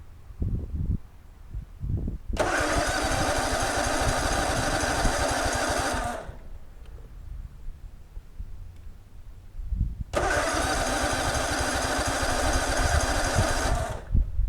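A zero-turn lawn mower engine, suspected of a clogged carburetor, cranks and catches, runs with a loud steady drone for several seconds, dies, then starts again and runs loud and close.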